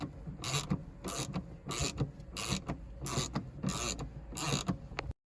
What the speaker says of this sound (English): Start to remove the fasteners that are holding in the sun visor.